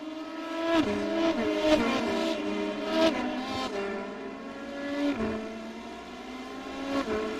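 Sports cars in the Lonestar Racing Sports Car Series accelerating as the race goes green, several engines revving and climbing in pitch through repeated gear changes, loud and fairly near.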